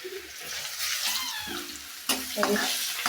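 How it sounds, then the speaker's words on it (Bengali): Chopped onions frying and being stirred in a pan in a village kitchen, a close, steady sizzle broken by scraping and clattering of the spoon. "এই যে এখানে পেঁয়াজ কুচি আছে, তো এগুলো দিয়ে ভুনা করবো এখন"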